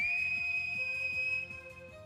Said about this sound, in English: I took my whistle and blew as hard as I could.